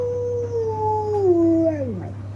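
A dog howls on command, holding one long, tonal howl that wavers slightly, then slides downward in pitch as it fades, close and clear over a faint low hum.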